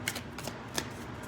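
A deck of tarot cards is shuffled, soft riffling bursts repeating in a loose rhythm, quiet and close with no voices.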